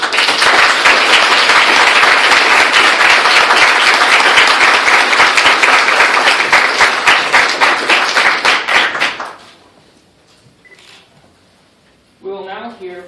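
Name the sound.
applause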